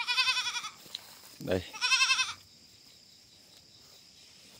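Goats of a local Vietnamese grass goat breed, kept as breeding bucks, give two loud, close, wavering bleats. A single brief spoken word falls between them, and quiet follows.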